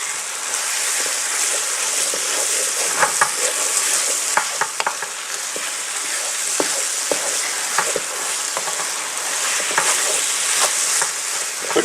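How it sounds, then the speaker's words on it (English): Minced beef and onions bubble and sizzle in a pan with gravy base for a cottage pie, a steady close hiss with frequent soft clicks and scrapes of stirring throughout. "adding the gravy base to the actual minced beef and onions"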